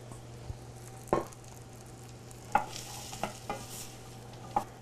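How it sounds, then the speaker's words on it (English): Chopped butternut squash goes into a pan of shallots softened in butter, giving a faint low sizzle under a steady hum, punctuated by a few sharp knocks and scrapes of a utensil stirring against the pan. "So we've cooked the shallots in the butter for about 2 minutes. And I'm adding some chopped butternut squash."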